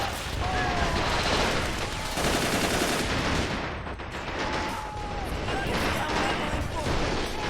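Autocannon and machine gun fire in the WWII Stalingrad battle of Men of War: Assault Squad 2, a dense, continuous roar of overlapping shots and blasts over several seconds, with a voice talking over it.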